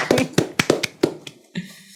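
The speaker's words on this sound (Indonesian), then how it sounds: "Tepuk tangan dong." Hands clap a few times in an indoor podcast studio, several sharp, close, irregular claps over about two seconds, then a softer final tap.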